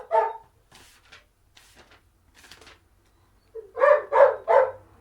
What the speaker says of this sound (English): He's just down there barking all the time.